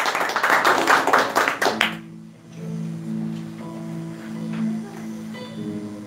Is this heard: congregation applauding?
yes